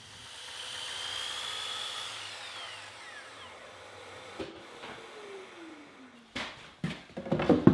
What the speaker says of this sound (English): I'll use the router to create a bead molding detail at the bottom of the apron.